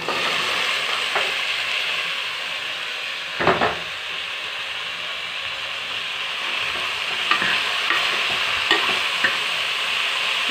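Bottle gourd sautéing in a hot pan, a continuous sizzle broken by scraping stirs of a spoon, close and fairly loud with no talk.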